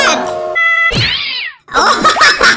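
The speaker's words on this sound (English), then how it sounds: "Oh, he's angry cat!" An angry cat yowls loudly and close by in a run of drawn-out, harmonic meows, with the pitch rising and falling across the calls. A brief silent gap separates them before a final harsh, wavering cry.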